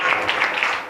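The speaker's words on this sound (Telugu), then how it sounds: "చప్పట్లు కొట్టాలి" Children at a Sunday school clap together in a dense, steady patter that lasts about a second.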